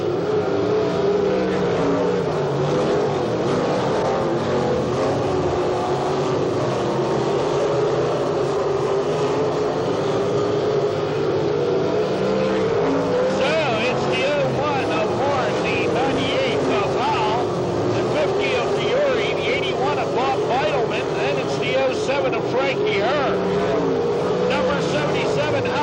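Race cars at Path Valley roar past on the track in a continuous loud drone of engines rising and falling, with an announcer talking over the racing throughout.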